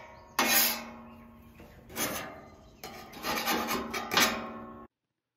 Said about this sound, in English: As you guys see me scraping the grill